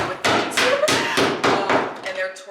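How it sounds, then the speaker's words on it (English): Roofers hammering while torching a roof at a construction site: a run of loud, close, regular thumping hammer blows, about eight in quick succession, with a rougher hiss and clatter between strikes. "they're torching the roof and hammering something"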